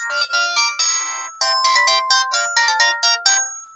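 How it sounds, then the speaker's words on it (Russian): A telephone ringtone plays loud and clear, a rapid electronic melody of repeated bright notes in short bursts that keeps going for several seconds, with no voices over it. "Телефон."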